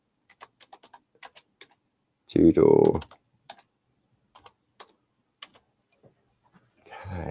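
Sparse, light keystrokes on a computer keyboard tap out irregularly, close and quiet. A short spoken word cuts in partway through, and a voice starts again at the end.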